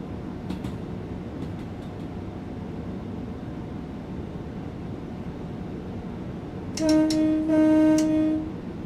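Train Sim World 2 train pulling into a station on the East Coast Way between Lewes and Brighton: steady low rumble of the running train, then a loud two-tone horn blast near the end.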